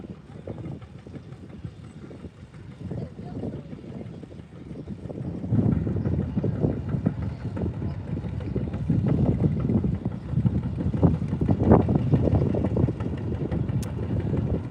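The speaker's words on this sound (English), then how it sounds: "A little bit windy again today." Wind blowing outdoors at a Heritage Farmers tractor pull in Blissfield, Michigan, a steady rough rumble of gusts buffeting the microphone that grows louder and fuller partway through and keeps going.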